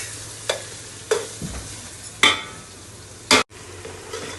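Onions frying in a pan for a crab curry, stirred in a few separate, sharp scraping strokes over a quiet, low background sizzle.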